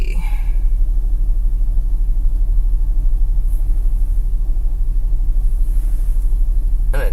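A parked car's engine runs at idle, a steady low rumble that stays constant throughout, with a couple of brief faint clicks near the start and end.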